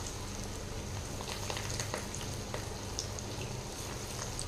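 Paruppu vada lentil fritters deep-frying in hot oil, a soft, continuous crackling sizzle with scattered small pops, fairly faint and with no talk.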